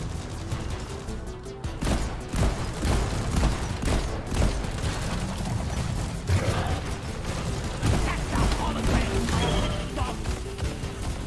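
Grenade launcher rounds and gunfire explode in a video game, a dense run of heavy booms and crashing impacts with rumbling low end, close and loud throughout.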